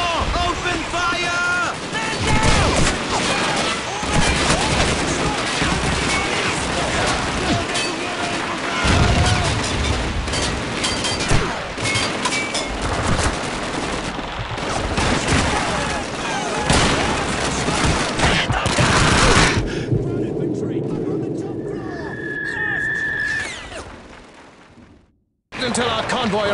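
Sustained, chaotic battle gunfire from Call of Duty 2 with the British forces, with dense overlapping shots, booms and wind-like rumble, and shouted soldier voices in between, ending in a quieter stretch with a brief tone before a sudden cutoff.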